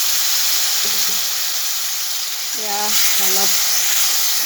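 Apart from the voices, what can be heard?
hiss of water added to frying masala for fish curry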